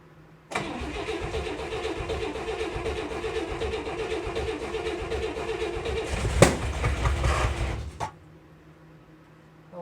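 A car engine whose spark plug has blown out cranks and catches, then runs roughly and loudly for about seven and a half seconds, with a sharp pop near the end before it cuts off abruptly.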